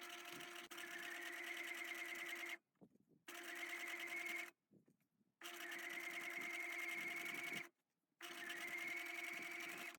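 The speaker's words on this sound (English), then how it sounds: "We're now going to sew along there with a simple edge stitch, back stitch, forward stitch, all the way." A sewing machine runs an edge stitch along a flat felled seam, whirring steadily in four bursts separated by short pauses, with back and forward stitching and no talking.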